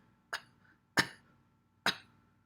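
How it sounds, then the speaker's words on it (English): Three sharp coughs spaced about half a second apart, each a short harsh burst that fades quickly, close by with quiet in between. "and cough a little bit"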